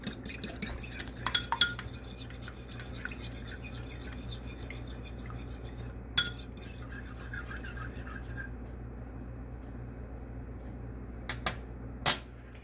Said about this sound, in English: I'll whisk these eggs up some